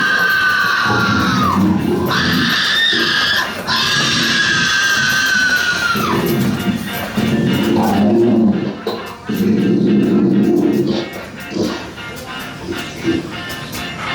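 An animatronic Halloween prop of a kicking, screaming person lets out loud, wavering shrieks close by, repeating in long drawn-out cries that rise and fall, followed by rougher, lower growling bursts.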